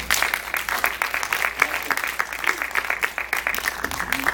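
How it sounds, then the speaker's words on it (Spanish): Audience at a Saturday photojournalism talk gives a welcoming round of applause for a speaker, steady crowd clapping with distinct individual claps throughout. "Con un aplauso."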